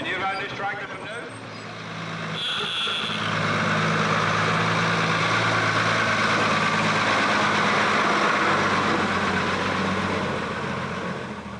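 A tractor engine idles nearby with a steady low throbbing rumble that swells slightly and holds, while a person speaks briefly at the start.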